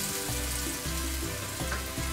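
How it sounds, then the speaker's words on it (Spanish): Sliced plantains fry in a pan over a low flame, giving a steady, close sizzle with faint stirring and no talking. "La idea es que se vaya haciendo, pues que se vaya friendo el plátano sin que se nos queme"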